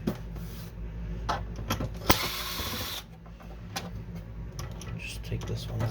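A screwdriver clicks and ratchets in quick bursts while backing screws out of the side panels of an HP Photosmart Plus B209a printer, close and fairly quiet, with a person speaking softly at times.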